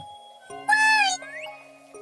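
A cartoon kitty gives a single clear, drawn-out meow, bright and close, over soft background music.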